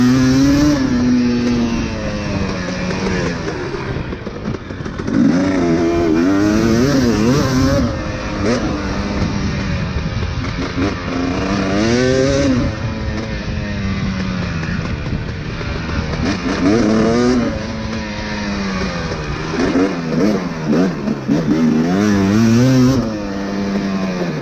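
A motocross motorcycle lapping a dirt track, its engine loud and close throughout, rising and falling steadily as the rider works the throttle, with no talk.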